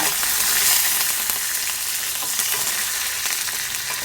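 Cumin seeds sizzling and crackling in melted ghee, heard as a dense, bright, steady close-up frying hiss with faint scattered pops and no voices.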